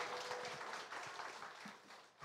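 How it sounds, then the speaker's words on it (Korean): A church congregation applauds during a Parents' Sunday service, a soft, steady wash of clapping that stays fairly quiet and distant throughout. "우리 박수하겠습니다."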